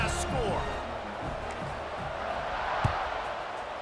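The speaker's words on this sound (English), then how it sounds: "this crowd is buzzing after that last score" Crowd in the College Football 26 video game buzzing after a touchdown, a steady broad murmur of stadium noise running throughout beneath a commentator's voice.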